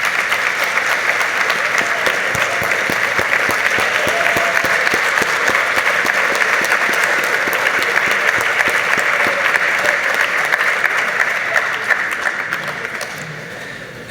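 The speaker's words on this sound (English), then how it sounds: "give you a round of applause" Sustained, dense applause from a standing audience of parents, teachers and family at a scholars program anniversary ceremony, steady and loud for most of the stretch before tapering off near the end.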